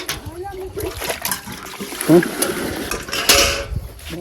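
Dishes, pots and utensils clatter and clink against each other in running water, with splashing throughout and louder knocks near the end, while people talk over the washing.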